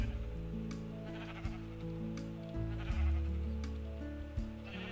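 Sheep bleating in Minecraft with the RotaryCraft mod: a few drawn-out, wavering bleats sit over a loud, continuous low machine drone, with sharp clicks scattered through and no voices.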